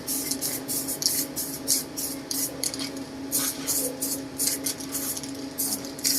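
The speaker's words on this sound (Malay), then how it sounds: "lepas kering kamu baru lagi spray layer kedua spray layer kedua" Aikka AK1800 plastic paint sprays from an aerosol can onto a plastic dashboard in a series of short hissing bursts, rhythmic and close, over a faint steady background hum.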